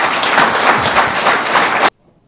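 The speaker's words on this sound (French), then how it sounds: "Ça s'applaudit." Audience applause at a Fédération TT Bénin training and awareness symposium in Benin: a dense, steady burst of many hands clapping that runs for nearly two seconds, then cuts off abruptly into near silence.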